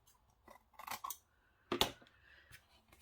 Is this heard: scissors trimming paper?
yes